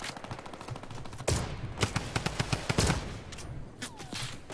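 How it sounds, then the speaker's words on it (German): Fortnite gunfire snaps close and loud, starting with a sharp blast and then a quick, evenly spaced string of shots, followed by a few more scattered cracks. "Wo wird geschossen?"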